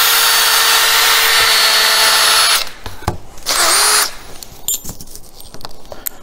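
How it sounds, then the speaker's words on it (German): A power drill pre-drills a hole in wood while building furniture for an expedition camper, whining loudly and steadily for over two seconds, then a second short burst before stopping, followed by quieter handling clatter. "Dann wird wie immer einmal vorgebohrt."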